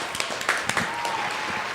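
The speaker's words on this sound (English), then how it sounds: "Round of applause for Caitlin Clark winning Rookie of the Year in the WNBA" A small group of people in a podcast studio gives scattered applause for Caitlin Clark's WNBA Rookie of the Year award: a few uneven, fairly faint claps rather than a full ovation.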